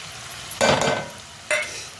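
Pav bhaji masala frying with tomatoes and onions in oil, two short bursts of loud sizzling and spatula scraping close by, separated by a quieter moment, with no talk.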